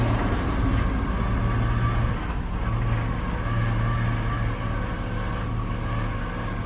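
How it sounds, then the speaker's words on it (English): A car's power steering pump runs with a steady mechanical whine and hum under continuous engine noise. It is loud and close, and no one speaks. "I think it's the power steering pump"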